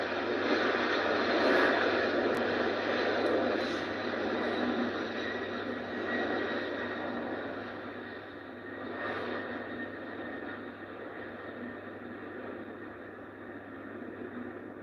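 A United airliner takes off at Heathrow bound for New York, its engines a broad, sustained roar close by that slowly fades over the span, with no talking.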